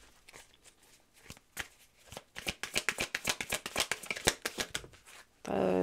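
Tarot cards being shuffled by hand: sparse soft flicks give way to a fast, steady run of crisp riffling snaps close up, ending in a louder rustling burst. No voices.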